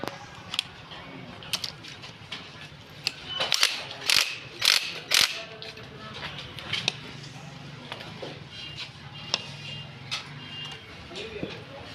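A Honda CD 70 front shock being tightened by hand, with a run of ratchety mechanical clicks and several louder metallic clacks in the middle, close up, mixed with a voice talking.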